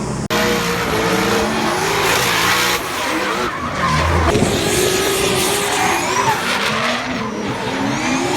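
Tires of a drift car, one of several Nissan and Mazda FC RX-7 cars at a D1 drift event, squeal and skid continuously and loudly for several seconds alongside roaring engine noise, with no talk.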